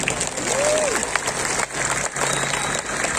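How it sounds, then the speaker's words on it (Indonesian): An audience at a public ceremony in Bali claps in a sustained burst, steady and fairly loud, with a brief dip partway through and some background tones underneath. "Tepuk tangan untuk Bali"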